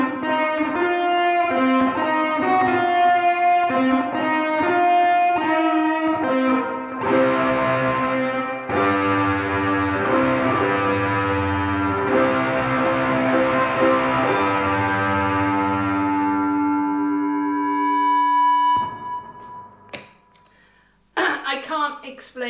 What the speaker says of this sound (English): Let's go with a bit of distortion.